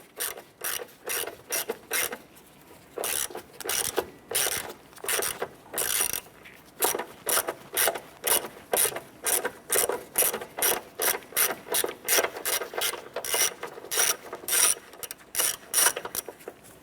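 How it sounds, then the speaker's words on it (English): Ratchet clicking steadily as an 8mm socket on an extension loosens the battery hold-down bolt on a 1993–1997 Ford Ranger, a close, rhythmic run of sharp pawl clicks with brief pauses, no talking. "Using an 8mm socket and extension, we're going to go ahead and remove this bolt here."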